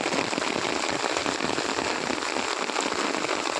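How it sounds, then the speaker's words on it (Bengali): Heavy monsoon rain pours onto flooded rice fields in a dense, unbroken hiss of drops, close and loud throughout without any voices. "তো দেখো কত জল পড়ছে"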